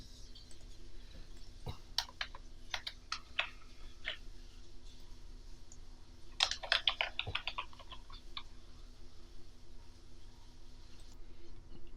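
Quiet clicking of a computer keyboard in scattered bursts of keystrokes, with a denser flurry of typing near the middle, over a soft background hum.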